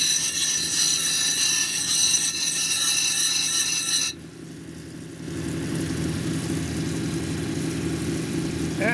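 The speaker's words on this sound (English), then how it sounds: "I'm trying to grind that out right now so we get a nice smooth dome on there" Grinding a hard petrified wood cabochon into a smooth dome on a lapidary machine, a steady loud whine and hum that breaks off briefly midway, then resumes as a lower, broader grinding drone.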